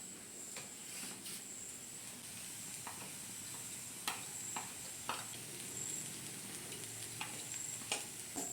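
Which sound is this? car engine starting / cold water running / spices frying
spices frying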